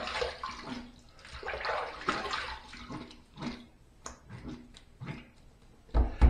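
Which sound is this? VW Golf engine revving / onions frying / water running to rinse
water running to rinse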